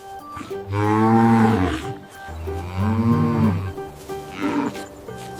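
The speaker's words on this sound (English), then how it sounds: "This is a cow." A cow moos three times in a row, two long loud calls followed by a shorter, quieter one, heard alone and close by.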